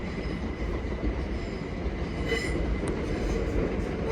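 A passenger train, number 701 035 bound for Hampton Court, rumbles steadily while departing Clapham Junction. The wheel and engine noise is loud and continuous, with a faint squeal rising briefly.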